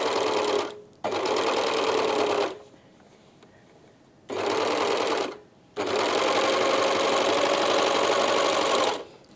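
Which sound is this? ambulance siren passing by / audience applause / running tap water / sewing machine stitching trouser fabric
sewing machine stitching trouser fabric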